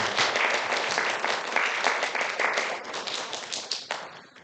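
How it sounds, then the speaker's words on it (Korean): A church congregation at a Korean-language worship service claps together, a dense burst of applause that stays lively for several seconds before thinning out toward the end, with no speech over it. "우리 모든 지체들에게 축복의 박수를 함께 올려드리도록 하겠습니다"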